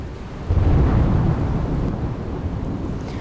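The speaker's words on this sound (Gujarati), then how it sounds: "ભરૂચ જિલ્લામાં ગાજવીજ સાથે ધોધમાર વરસાદ" Thunder rumbles low and heavy through a steady roar of downpour during a monsoon storm in Bharuch district, Gujarat, swelling loud and then holding as a dense wash of rain.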